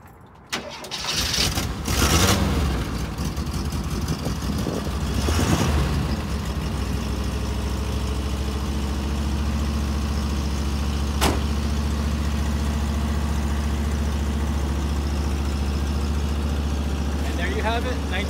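A 1979 Volkswagen bus with an automatic transmission cranks and catches within a couple of seconds, revs briefly, then settles into a steady, close idle that runs on alone.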